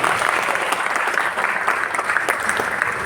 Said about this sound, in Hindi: और क्या तालियां बजा रहे हैं।